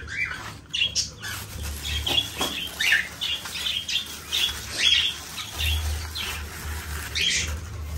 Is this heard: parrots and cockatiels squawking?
yes